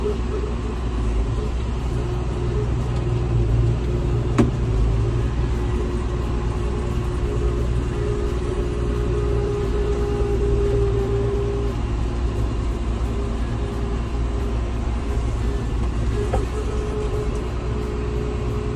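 A John Deere 6610 tractor with 7000 hours drives along, its diesel engine giving a steady low rumble that holds even and continuous from start to finish.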